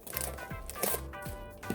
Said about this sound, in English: I'm gonna take that onion we have here and start chopping it up